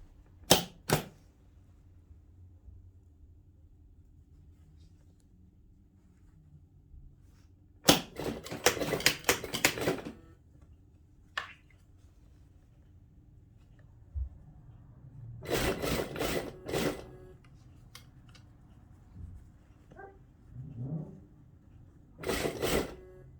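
A sewing machine stitches the waist of lined pants in several short bursts of fast rattling needle clatter, separated by quiet pauses with faint handling rustles.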